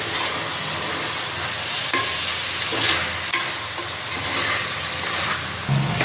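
Tomato, coriander and mint are stirred into a pot for chicken biryani, giving a soft frying sizzle with intermittent scraping and clinking strokes, moderately quiet.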